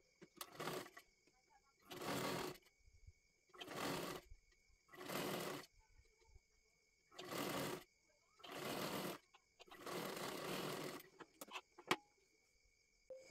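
Sewing machine stitching a seam along the edge of a puff sleeve, running in seven short bursts of about a second each with brief pauses between, moderately loud and close.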